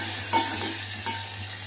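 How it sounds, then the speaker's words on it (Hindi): Ground masala for green mutton akni hits hot oil and sizzles steadily, with soft stirring scrapes of a utensil in the pan, close and moderately quiet. "अब हमारा ऑयल गर्म हो चुका है, अब इसके अंदर हम जो मसाला हमने पीसा था वो डालेंगे।"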